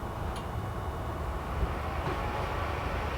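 A 110-volt electric vehicle charger on a Tesla-powered Volkswagen Vanagon hums and whirs steadily in a continuous broadband drone, fairly close, with a few faint clicks and no talk.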